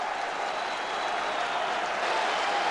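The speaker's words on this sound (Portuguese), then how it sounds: "o torcedor que está atrás grita o nome dele" Football fans at Pacaembu stadium chant and cheer Leandro Damião's name, a soft, distant wash of crowd noise that holds steady throughout.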